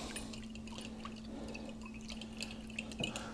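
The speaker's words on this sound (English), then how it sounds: "We're going to stir it up." Liquid stirred in a pot while cooking a Portuguese bifana sandwich filling, soft wet sloshes and light clinks over a faint steady hum, quiet and close.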